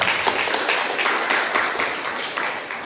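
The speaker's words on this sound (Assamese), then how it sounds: "আমি জুইকে তালি বজাই ঈশ্বৰ ধন্যবাদ" A church congregation claps together in a sustained, fairly loud patter of many hands with a roughly even rhythm running through the whole moment, with no voices above it.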